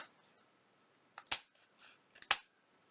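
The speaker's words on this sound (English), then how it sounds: "let's take our bigger scissors and see about trimming this" Large scissors cut through junk-journal paper ephemera in two distinct crisp snips about a second apart, fairly close and clear, with faint rustling of paper between them.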